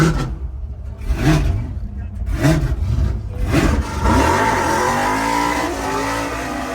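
A car engine revs up and down repeatedly, rising and falling in pitch, loud and close, then holds a high sustained drone.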